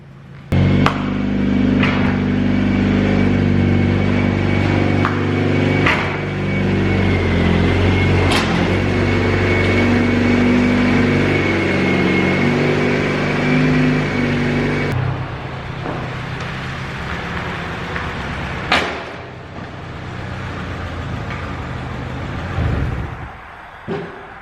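Honda Del Sol engine strapped to a dyno in a shop, a loud sustained running drone with a steady tone for about fifteen seconds, then dropping to a quieter idle punctuated by sharp clanks and knocks.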